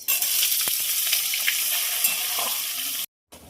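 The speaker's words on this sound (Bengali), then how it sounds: "পেঁয়াজ ভাজা হয়ে গেছে" Chopped onions sizzle in hot oil with whole cumin, garam masala, dried chillies and bay leaf, a dense steady frying hiss with occasional stirring clicks, cut off briefly near the end.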